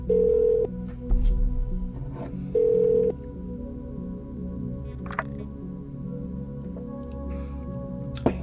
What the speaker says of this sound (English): We have a phone call.